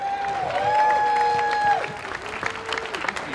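Applause and scattered cheers from a rally crowd outside the Department of Justice in Washington, DC, with a sustained whistle-like tone over the clapping, which fades to lighter scattered claps.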